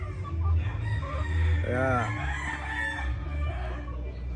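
A gamecock crows loudly once near the middle, with other fowl clucking around it and a voice speaking briefly in the background.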